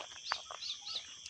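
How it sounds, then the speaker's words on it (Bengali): Birds calling in quiet hills near a river and the Buxa Tiger Reserve, a few faint, distant chirps and tweets repeating over a hushed background. "শুধু পাখির ডাক ছাড়া আর কিছুই এখানে নেই।"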